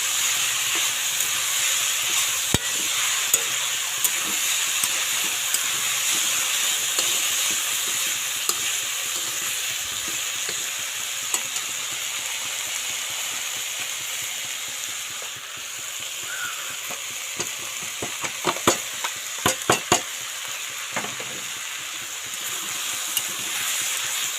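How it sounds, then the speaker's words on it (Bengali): Spices sizzle and hiss steadily in a hot pan, with occasional scraping clinks of stirring close by. "আমার মোটামুটি ভাজা ভাজা হয়ে এসছে তো এর মধ্যে আমি এবার মশলাগুলো দিয়ে দেবো"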